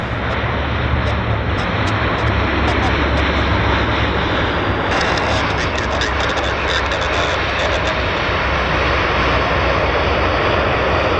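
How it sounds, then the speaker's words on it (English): A Q400 turboprop airliner lands at Vancouver airport, its engine roar loud, broad and constant throughout, heard outdoors with a steady wash of noise. "Q400 landing."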